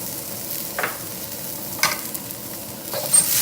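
Chopped ingredients and ginger for chicken fried rice are emptied into a hot wok. A soft, constant frying hiss runs throughout, broken by three sharper sizzling bursts as the food hits the pan and gets stirred.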